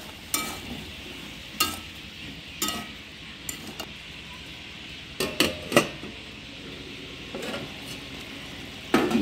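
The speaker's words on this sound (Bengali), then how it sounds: "ঢাকা দিয়ে দেবো।" Cut vegetables with salt and turmeric being stirred in a pan of fried onions, with several metallic clanks and scrapes of utensils against the pan over a faint sizzle, ending in a louder knock of a lid.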